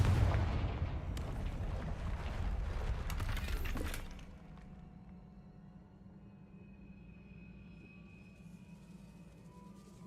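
Confringo blast spell in Hogwarts Legacy gameplay: a loud booming burst with crackling debris rolls on for a few seconds, then drops away to a quiet game ambience hum.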